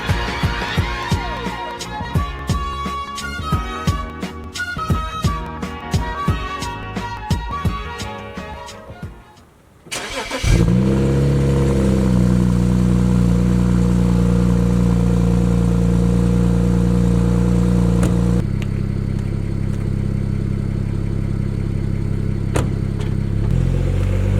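BMW E90 335i cold start: after several seconds of clattering and rustling, the engine cranks and fires with a loud rising flare, then settles into a steady, fast, high idle that runs on to the end.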